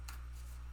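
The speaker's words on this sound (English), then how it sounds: "These cards are so big, it's hard to allow one to flip out." Oversized tarot cards are riffled together in one short, close shuffle over a steady low hum.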